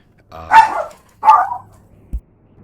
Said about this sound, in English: My dog just heard somebody